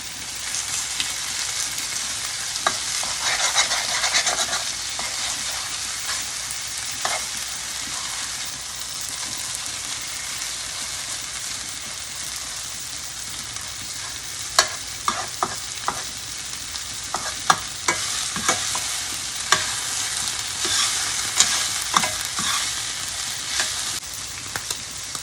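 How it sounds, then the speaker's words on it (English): A ribeye steak sizzles loudly and steadily as it sears in a pan, with scattered sharp crackles and spatters, close up and with no talking. "I'm going to flip the steak again."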